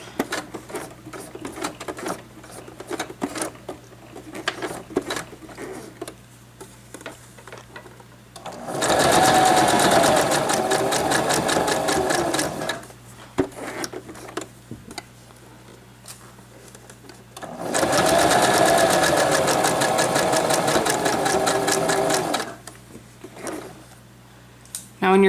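A sewing machine stitches frog-shaped mittens in two steady motorized bursts of several seconds each, close and loud, with a person talking quietly in the gaps between runs.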